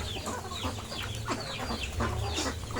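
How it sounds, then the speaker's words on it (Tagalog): Several chickens cluck busily and close by, overlapping short calls in a steady chatter. "Sobrang nagutom yung mga chicken. Yung mga manok."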